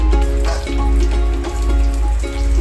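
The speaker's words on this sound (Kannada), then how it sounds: "ಇವಾಗ ಈರುಳ್ಳಿನ ಹಾಕೋತಾ ಇದ್ದೀನಿ" Onions sizzle in hot oil in a pan while vegetable upma is being cooked, a loud, steady frying hiss with bursts of crackle and spatter running through the whole stretch, with no voices.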